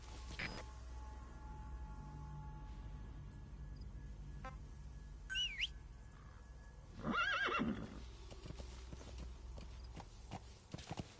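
A horse in the game Metal Gear Solid V: The Phantom Pain whinnies loudly in a long rising and falling neigh, with steady clip-clop of hooves and a few game sounds around it.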